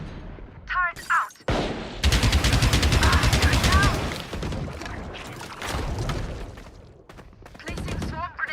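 Rapid automatic turret gunfire in a tactical shooter game rattles loud and close in a dense sustained burst after a few scattered earlier shots, with brief voice chatter and game callouts around it.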